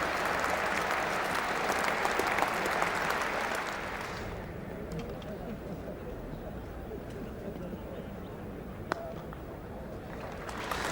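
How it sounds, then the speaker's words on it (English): Cricket crowd at a Test match between England and Australia roaring in relieved cheers and applause after a catch, a dense sustained wall of noise for about four seconds that eases into a lower ongoing crowd murmur. "Relieved cheers from the crowd, but the damage has been done."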